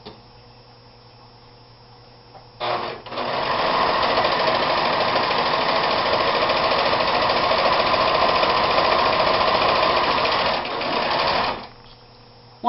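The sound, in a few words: serger stitching practice seams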